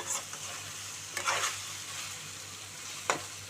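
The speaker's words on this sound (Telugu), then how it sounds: "ఈ నీరు ఎగిరిపోయే వరకు మనం ఫ్రై చేసుకోవాలి" Watery onion paste with bitter gourd frying in a pan while being stirred, a soft steady sizzle with occasional scraping strokes, close but fairly quiet, with no voices.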